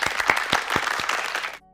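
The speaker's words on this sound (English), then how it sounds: "give myself a round of applause because I am so proud of myself for doing this" A brief burst of hand-clapping from a small group, a quick run of distinct claps lasting under two seconds that cuts off abruptly into near silence.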